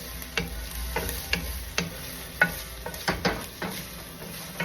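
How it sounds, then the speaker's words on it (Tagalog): Meat browning in its own rendered fat in a pan, a steady soft sizzle broken by regular clacking strokes of a spatula stirring it, with no talking. "maglalabas din yan ng sarili mantika niya. So, brown lang natin siya ng konti."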